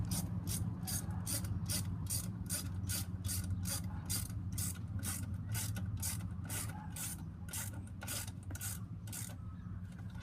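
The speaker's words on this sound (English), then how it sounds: "you need a 10mm socket and a ratchet" A ratchet with a 10mm socket clicks in a fast, even series of about twenty sharp pawl clicks while tightening a clamp on the intake of a 2005 Hyundai Accent, over a low steady hum.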